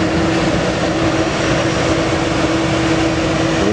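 A Qatar Airways airliner at Manchester Airport gives off a steady, loud engine roar with a constant hum, heard fairly close and alone without voices.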